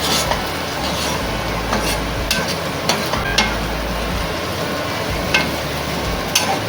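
Shevla, a monsoon wild vegetable, being stirred and sautéed in a pan, a loud steady sizzle with intermittent scraping and clicks of the spatula, no talking.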